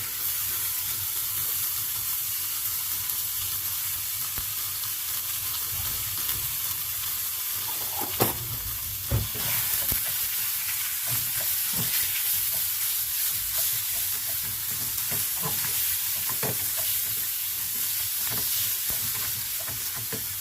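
Eggplants frying in hot oil in a home kitchen for moussaka, giving a steady close sizzle and hiss throughout with a few brief stirring clatters partway through, no voices.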